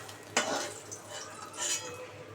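Fried eggplant pieces being lifted out of a pan of hot oil, with a sharp utensil scrape against the pan near the start, followed by soft clinks and a light sizzle.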